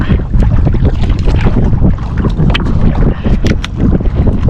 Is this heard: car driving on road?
no